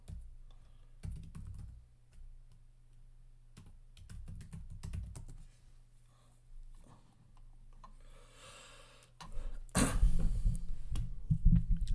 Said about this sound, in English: Even typing on this is taking me a minute.